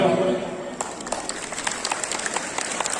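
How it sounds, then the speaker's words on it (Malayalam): A crowd of worshippers at a Navaham gathering in a Kerala temple claps together, a dense burst of many hands clapping steadily for about three seconds, close and fairly loud. "ഒരു ക്ലാപ്പ്"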